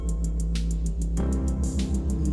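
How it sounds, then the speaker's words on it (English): Sub bass pushed through Ableton Live 12's Roar distortion with feedback, smeared up into gritty mids, grooving loudly with steady rhythmic hits and a shifting tone alone. "with the roar, it smears out into the mids and creates this really weird groove. It's got some feedback on it"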